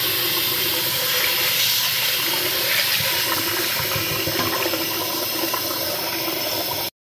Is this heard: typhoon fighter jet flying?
no